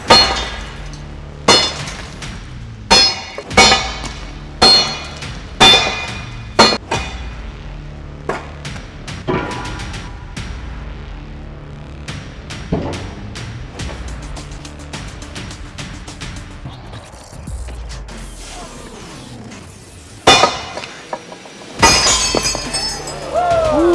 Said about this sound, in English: we're going to smash your hammers into ceramic squares